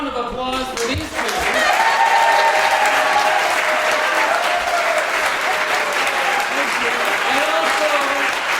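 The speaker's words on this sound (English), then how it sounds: "how about a round of applause for these two?" A large audience at a Christmas at Sea gathering bursts into loud, sustained applause that swells within a second and holds steady, with faint voices mixed in.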